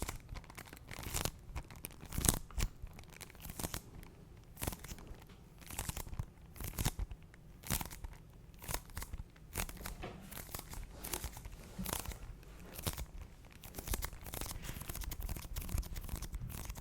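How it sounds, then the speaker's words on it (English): A sealed copy of the video game Legend of Zelda Tears of the Kingdom has its plastic wrap torn and crinkled, close and crisp, a steady run of ripping and crackling bursts over about seventeen seconds with no talking. "It is still brand new in its little seal for you to tear open"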